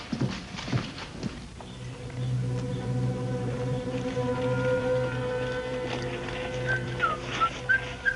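A few hollow horse hoof clops at the start, then a steady droning tone with someone whistling over it.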